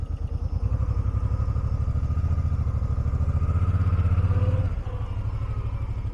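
A 2014 Suzuki Boulevard C50T (VL800) cruiser motorcycle engine runs steadily in second gear with a deep, even thrum, swelling a little under throttle before easing off near the end.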